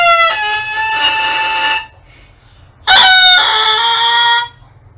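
Oboe and cor anglais double reeds are blown on their own, giving two loud, bright, buzzy squawks of about a second and a half each, separated by a short pause and heard up close.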